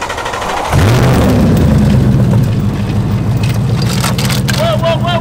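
A Ford Mustang engine fitted with a new belt and a Holley Sniper setup fires up loudly and runs with a rough, rattling roar, with leftover fragments of the old belt still inside; faint voices sound near the end.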